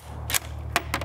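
Single bolt-action rifle shot fired with 5.56x45mm 77gr MK262 Mod 0 ammunition through a 1-9 twist barrel in an Oryx chassis, followed by two more sharp reports at an even pace, close and loud over a steady low hum.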